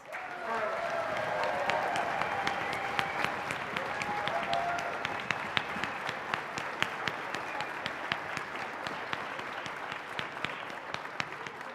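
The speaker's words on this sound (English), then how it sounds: "I think we need to give them a rousing round of applause." Audience applauding at a school concert of young student musicians, a dense, steady roll of many hands clapping throughout, sharp individual claps standing out near the end.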